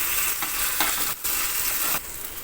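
Ginger-garlic paste frying with browned onions in hot oil, a close, bright sizzle broken by quick stirring scrapes of a spatula against the pan, with no talking.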